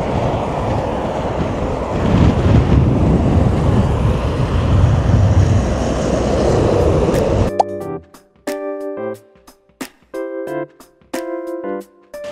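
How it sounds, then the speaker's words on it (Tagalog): Strong wind gusting across an Arctic fjord road in northern Norway near Tromsø: a loud, steady roar for about seven seconds. It then gives way to short, tonal, clattering bursts with gaps of quiet between them. "Ewan ko kung maririnig nyo yung lakas ng hangin, pero grabe."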